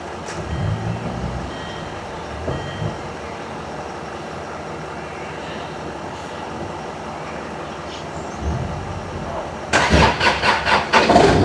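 Car engine cranking and catching after repeated failed attempts to start, heard as rough low rumbles across the clip, then a burst of loud rhythmic pulsing near the end as it fires up, with no talk over it.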